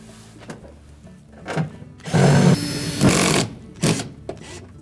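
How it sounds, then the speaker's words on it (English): Screws being driven back into a Whirlpool refrigerator panel with a power driver, several short whirring bursts of varying length separated by quieter handling noises, close by. "Now we're ready to reinstall the screws on the panel."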